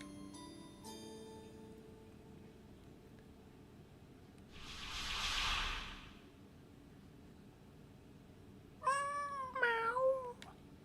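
A cat meows in a horror video game, a few rising and falling high-pitched meows arriving near the end after a quiet stretch with a soft swelling whoosh in the middle.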